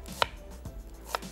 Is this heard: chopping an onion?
yes